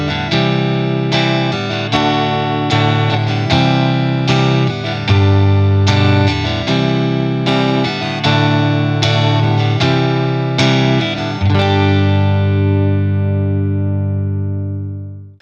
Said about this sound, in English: remember down, rest, down, down, up, on every single chord